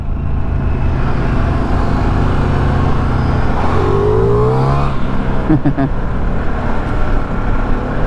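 A 2023 Harley-Davidson Sportster S motorcycle at highway speed, its engine drone and wind roar loud and continuous throughout, with a rider's voice talking over it partway through.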